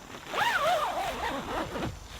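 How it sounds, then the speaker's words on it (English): A zipper on the front door of a Onewind SoloVent bivy tent is drawn closed in one long pull with a couple of quick strokes, close and clear. "And from there, you zip it up."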